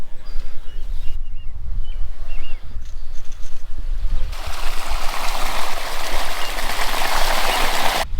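A water pump runs on an onion farm after a storm, giving a steady rushing, gushing water noise that grows louder and brighter partway through, with a low rumbling undertone throughout.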